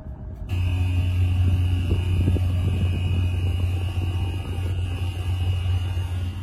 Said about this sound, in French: Quelque chose ressemblant à un ventilateur très bruyant.